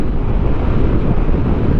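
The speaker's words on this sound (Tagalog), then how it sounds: "Ang lakas ng hangin, ah." Loud, constant wind buffeting the microphone while riding a Yamaha Fazzio scooter on the Marilaque highway, a dense roaring rush with no pauses and no voices.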